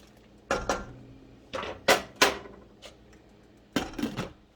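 Spoon stirring shrimp chowder in a cooking pot, giving several sharp metallic clinks and scrapes in irregular bursts against quiet pauses, close and fairly loud, no one talking.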